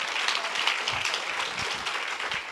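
Audience applause fills a live public podcast recording, a dense, steady wash of many hands clapping at even loudness throughout, with no voices over it.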